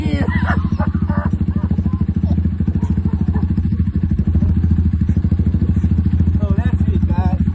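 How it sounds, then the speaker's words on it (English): A BD250 motorcycle engine roars steadily and loudly nearby throughout a wheelie attempt, with a constant low rumble, some clattering and wind buffeting, and no talking. "I just want to show you guys that the BD250 is capable of doing a wheelie."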